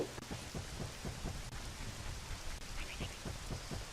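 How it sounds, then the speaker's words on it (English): Rain and thunder surround the Water Temple in Zelda: Ocarina of Time, a steady hiss of rainfall with soft low rumbles and scattered drop-like taps, moderately faint, with no talk. "Now while we're outside of the water temple, it's gonna be raining."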